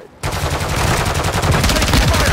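Loud, sustained automatic gunfire from Call of Duty Warzone on Ashika Island fills the clip, one continuous rattling burst that begins abruptly after a brief quiet moment.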